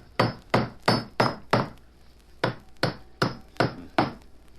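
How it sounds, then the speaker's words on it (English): Nails are hammered into a wooden floorboard as a radio drama effect: nine sharp, close blows, five in quick rhythm, then a pause, then four more, with no talk. "I'll hammer these nails in,"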